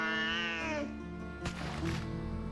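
A cat in the World of Warcraft video game meows on a balcony: a long, loud, close plaintive wail, then a shorter second meow over faint game ambience.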